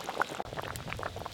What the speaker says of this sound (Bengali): মাছ দেওয়ার পর মাছ আর ঝোল একসঙ্গে ভালো করে ফুটিয়ে নিয়েছি